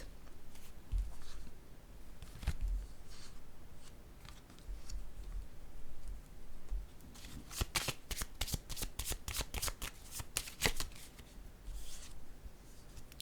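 Cards being handled and drawn from a deck, with soft sliding and rubbing at first, then a fast burst of crisp riffling flicks in the second half, close and quiet, with no talking.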